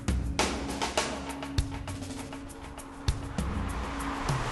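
A Lamborghini Aventador Roadster on a road trip produces a steady low engine drone and road rumble heard from inside, with wind noise and a few sharp thumps over bumps.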